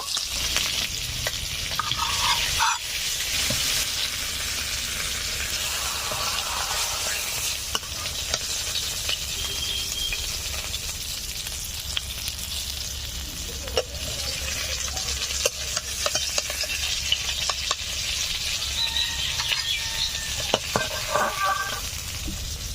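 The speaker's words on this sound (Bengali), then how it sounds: "মাছগুলো ভেজে নিয়েছি, তুলে নেব।" Pieces of katla fish fry in oil with a constant, close crackling sizzle, broken by scattered clicks and scrapes of a utensil moving through the pan; no one speaks.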